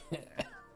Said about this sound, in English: it's making me cough again